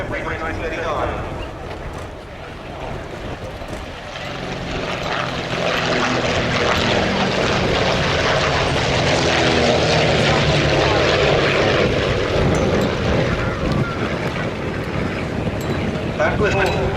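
A vintage propeller aeroplane with a 1936 engine flies past at the Duxford Air Festival, its droning engine swelling steadily louder and then holding, while an announcer talks over it.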